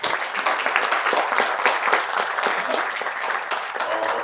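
An audience at a talk show gives sustained applause, a dense, even wash of many hands clapping together that stays steady and fairly loud from start to finish, with no speech over it.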